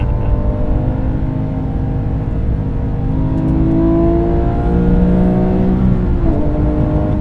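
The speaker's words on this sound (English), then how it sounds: "So beautiful to rev." A car engine revs steadily, its pitch climbing and sliding in smooth rising sweeps over a continuous close-up drone, with no talking.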